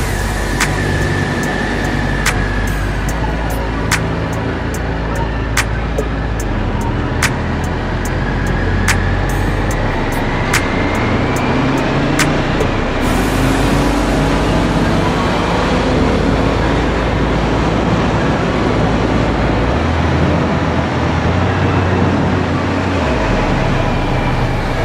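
Indian FTR 1200 motorcycle on a test ride, its engine and wind noise roaring loud and steady throughout, with the pitch rising and falling as the rider changes speed.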